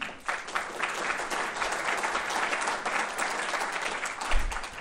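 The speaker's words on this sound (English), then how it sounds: "Please give them a round of applause" Sustained audience applause at an engineering deans' conference panel, a steady dense crackle of many hands clapping for several seconds, moderately loud and without talk.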